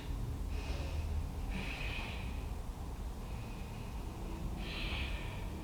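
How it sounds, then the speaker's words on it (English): Slow breaths drawn in and let out during a stretching exercise, several airy, hissing inhales and exhales spaced a second or more apart, faint and close against a steady background hiss. "Breathing in, breathing out, switch."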